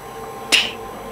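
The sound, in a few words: tapping imitating a toilet lid opening and closing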